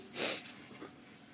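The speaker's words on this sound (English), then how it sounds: "I sneezed." A single quick sneeze bursts out near the mic, a short airy snort followed by faint breathy sounds in a quiet room.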